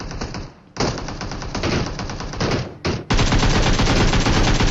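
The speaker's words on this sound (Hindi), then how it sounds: "मेरे जस्ट पीछे से भी कुछ फायरिंग की आवाज़ आती है" Rapid automatic gunfire from an online shooter video game rattles in close, loud bursts, with a brief lull before a sustained stretch of continuous firing.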